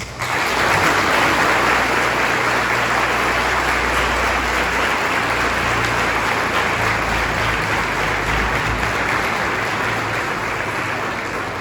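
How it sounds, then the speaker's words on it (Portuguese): Church congregation at a Corpus Christi triduum Mass claps in a sustained, loud, even roar of applause welcoming new extraordinary ministers of Holy Communion, with a low hum running underneath throughout. "Acolhemos com uma salva de palmas."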